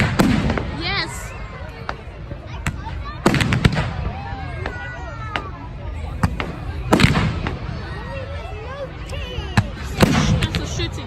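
Bonfire night fireworks on 5 November pop and crackle in repeated bursts, some sharp and near, others fainter, with people talking and cheering throughout.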